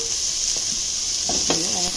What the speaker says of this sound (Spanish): Vamos a sofreír nuestra riquísima cebollita